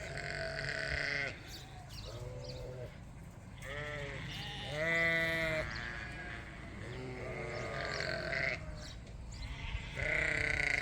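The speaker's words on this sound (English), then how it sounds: "We got the Dorset lambs out in that paddock over there." Dorset sheep and lambs on a farm bleat one after another, with several overlapping wavering calls, some loud and near and others softer, above a low background rumble.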